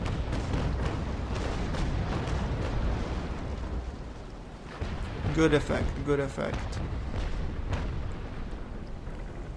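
Sailing-ship cannons in the video game Naval Action booming over a constant low rumble, with someone speaking briefly in between.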